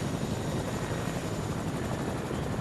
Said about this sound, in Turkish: Aa helikopter düşüyor.